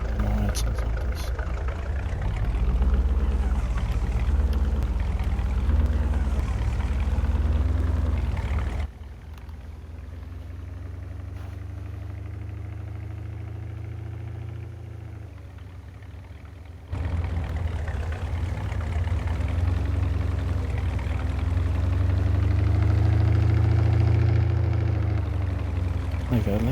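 A truck engine in Farming Simulator 22 idles with a steady low drone and swells as it revs, holding through most of the stretch with a quieter dip in the middle and a faint ticking tone.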